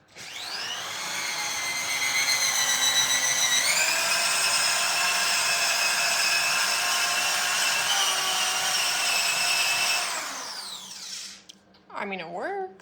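A power tool sands an old surface during a TV lounge makeover, a loud, continuous high whine with shifting pitch running for about ten seconds before winding down, followed by brief talk.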